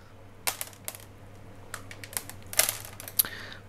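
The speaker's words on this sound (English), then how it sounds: "I'm going to cut a few off that look not alive anymore" Scissors snipping dead roots off a Twinkle orchid during repotting, several sharp separate clicks and snips at irregular intervals, close and quiet with no talk.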